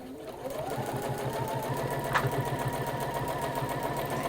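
A hand-cranked sewing machine stitches along a fabric edge in a steady, continuous mechanical rattle, close and even throughout, with one brief sharper click near the middle.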